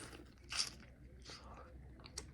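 Crunchy buffalo chicken wings are bitten into up close, giving a couple of soft crisp crunches with quiet chewing in between, faint overall.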